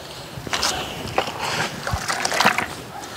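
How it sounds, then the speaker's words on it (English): Stiff tire brush scrubbing a wet car tire washed with ONR rinseless wash, producing irregular bursts of bristle scraping and watery splashing and sloshing, fairly close and moderately loud, with no talking. "I'm gonna take a little tire brush and wash it"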